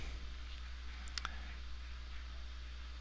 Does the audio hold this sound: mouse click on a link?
yes